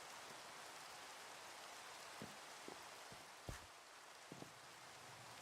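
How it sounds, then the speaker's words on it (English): Steady rain falls in the Minecraft modpack SkyFactory 5, a constant soft hiss with a few brief louder taps and thumps scattered through it. "The rain always starts."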